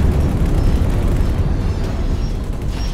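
Explosions in the space combat game X series Xenon war, a dense continuous low roar of rumbling blasts and booms filling the whole clip, loud and steady with no voices.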